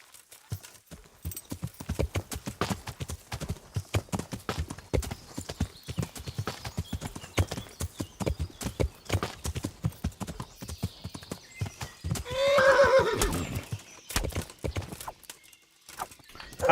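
Hooves clip-clop steadily on the ground in Kingdom Come: Deliverance, the gait loud and close, with a horse's whinny rising near the end before the trotting resumes; no talk over it.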